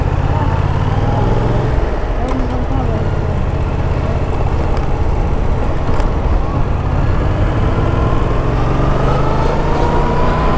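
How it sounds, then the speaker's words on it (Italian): Yamaha MT-07 motorcycle riding through a busy roundabout, its engine droning steadily under heavy wind rush and surrounding traffic noise, loud and unbroken throughout. "Proviamo a fare una rotonda molto trafficata."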